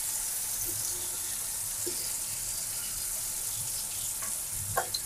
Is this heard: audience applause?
no